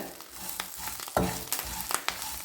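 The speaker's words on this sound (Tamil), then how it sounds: "நல்லா படபடபடன்னு பொரியிற சத்தம் கேட்கும் நல்லா பொரிஞ்சு வரட்டும் கருவேப்பில" Curry leaves crackle and pop in hot oil while being fried for an Andhra-style curry leaf pickle, a busy sizzle with sharp spitting bursts scattered irregularly over a few seconds.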